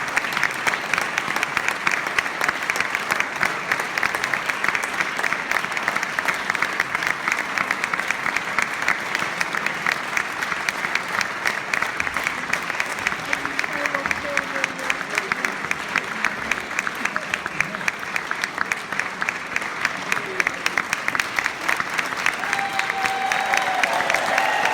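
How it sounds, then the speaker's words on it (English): Sustained audience applause at the Leith Hill Musical Festival, a dense, steady wash of many hands clapping in a hall that continues unbroken throughout, with faint voices mixed in. "Keep clapping until he gets up here."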